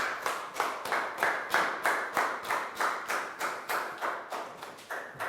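A small group of schoolchildren in a classroom clapping together, a quick, even rhythm of about a dozen sharp claps that swell and fade in regular pulses, close and clear with no talking.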